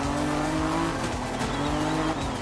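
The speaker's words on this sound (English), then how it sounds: "I heard the turbocharger kick in." A video game racing car engine roars steadily at high revs as the turbocharger kicks in, loud and continuous, with a faint tire squeal.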